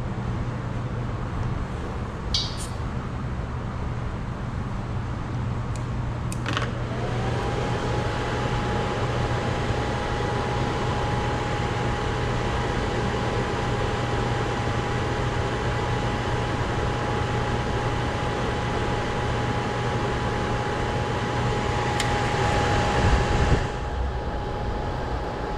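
An RV Suburban SF-25 gas furnace ignites with a few sharp clicks, then settles into a steady blower hum with a thin whine that runs for about fifteen seconds before cutting off.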